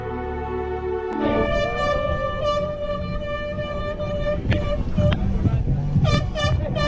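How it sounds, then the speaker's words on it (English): Loud, sustained air horn blasts ring out at a 10k eco run race start area, layered over crowd noise with a few shorter honks near the end. "They're going ham on the air horn"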